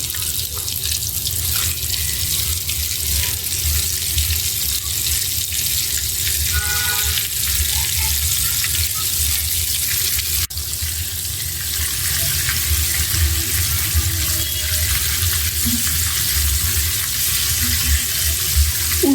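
Meat for a fried meat dish added to lightly heated oil in a pan, giving a steady, loud broadband sizzle like running water that continues throughout with little change.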